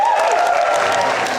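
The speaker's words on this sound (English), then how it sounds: "Can we just give them a little clap?" Wedding guests clapping during a speech at the reception, a dense burst of applause from a room full of people, with a faint voice or tone gliding underneath.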